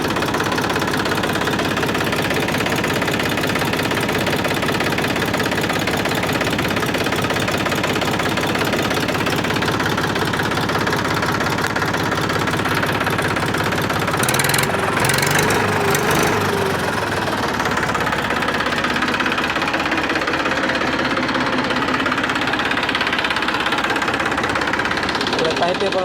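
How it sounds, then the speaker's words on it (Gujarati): A 2020 model tractor engine idles with a steady, low, chugging diesel rumble that runs continuously for about 26 seconds, with a brief rougher patch midway. "હવે ટ્રેક્ટરને ચાલુમાં બતાડી દઈએ કે એન્જિનને બધું કેવું છે."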